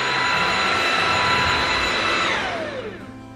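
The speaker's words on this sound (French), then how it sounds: "Et on va essayer d'aspirer avec le mode éco." A cordless vacuum cleaner runs in eco mode with a loud, steady whine and airflow rush, then winds down as it powers off near the end.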